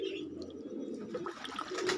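Pigeons cooing in a loft, a low steady murmur of coos from several birds close by, continuous over a couple of seconds with faint background rustle and no talking.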